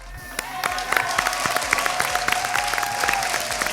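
Audience applause at a televised Malayalam music show, with steady, dense clapping and a few sharper rhythmic claps carried over a sustained tone that runs under the whole stretch.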